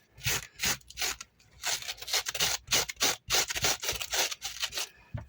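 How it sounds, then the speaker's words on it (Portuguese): Velcro glued to a piece of EVA foam brushes across a crocheted amigurumi sausage in steady, rhythmic scratchy strokes, each rub loud and close with brief pauses between passes. "A gente vai pegar um velcro, eu colei um aqui, ó, no EVA, um velcro, com cola Bonder mesmo, tá? Cola instantânea. Aqui. E a gente vai escovar assim"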